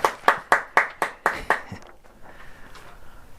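A single person claps seven times in an even, crisp rhythm, loud and close, then stops, leaving quiet room tone.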